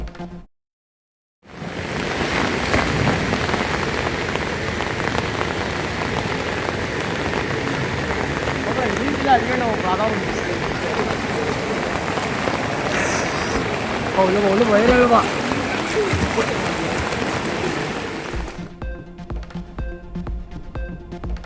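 Heavy rain falling in Nellai, where floodwater surrounds the Junction bus stand: a loud, continuous broadband rush of downpour lasting many seconds before cutting off abruptly.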